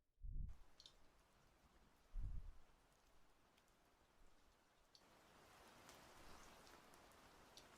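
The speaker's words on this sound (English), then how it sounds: "Also, I forgot the rain sounds." Soft, steady rainfall hisses faintly after two low thumps, then swells slightly louder and denser toward the end.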